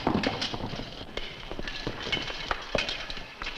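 Several horses gallop across open country in an old Western radio-style drama, steady clip-clop hoofbeats at a fast, running rhythm, fairly close and continuous with no voices.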